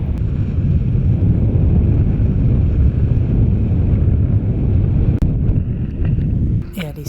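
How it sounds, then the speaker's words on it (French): Loud, steady wind rushes and roars across the microphone for several seconds while paragliding over mountain massifs, easing off briefly near the end. "seul, sans autre bruit que le vent."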